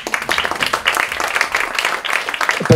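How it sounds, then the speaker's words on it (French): An audience applauds a man named Patrick during a humorous visual recap talk, steady close clapping that continues throughout, with a faint voice underneath. "On peut l'applaudir, Patrick"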